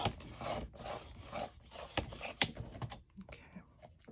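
A craft blade trims paper for a junk journal, giving a close, quiet, scratchy rasping that rises and falls in short strokes and then thins out toward the end.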